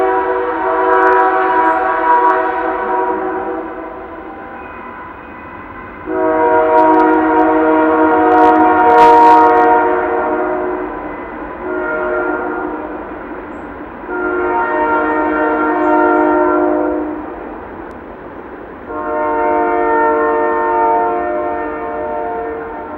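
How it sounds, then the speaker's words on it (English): A passing train sounds its horn in repeated long blasts separated by pauses, loud and fairly close, over a low rumble of the rail cars rolling by. "let you listen to the sound of a train going by."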